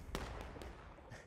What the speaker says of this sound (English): Oh, good artillery shot there